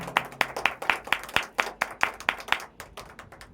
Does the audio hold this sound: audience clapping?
yes